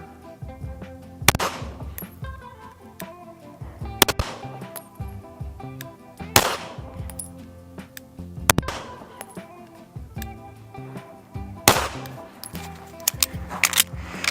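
Handgun shots during a shooting drill, five sharp loud reports spaced a couple of seconds apart with ringing decay between them, over faint outdoor background noise.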